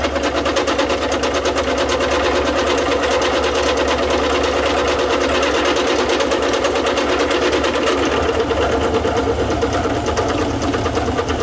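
A Kohala Iron Works milling machine runs at a steady, loud, continuous whir and hum with a fine mechanical chatter, unchanging throughout with no voices.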